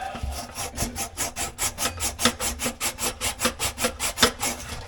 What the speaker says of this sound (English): So I'm going to sand this, clean this up before I put the new one on.